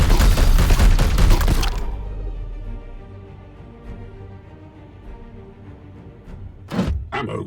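Gunfire in the video game Warhammer 40K: Chaos Gate, a dense burst of rapid shots and booms up front, then a quieter rumbling lull before two more sharp blasts near the end.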